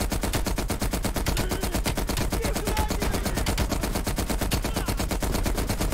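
Sustained rapid automatic gunfire from Call of Duty Cold War, a continuous dense stream of loud shots with no break across the whole stretch.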